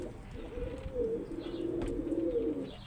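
Pigeons near squabs at a nest cooing in soft continuous low rolling calls, close and steady under faint background noise, no talk.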